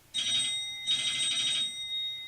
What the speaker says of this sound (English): I typed in phone ring in the search bar.